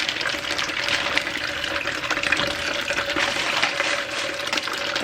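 Food pulled from its packaging is rinsed under a running kitchen tap, a steady close rush of water that continues without pause and without speech.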